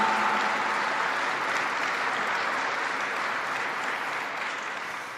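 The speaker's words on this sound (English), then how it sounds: "So give yourselves a round of applause." Troops at Fort Drum, New York, applaud in a steady wash of dense clapping that holds evenly and then fades slightly toward the end.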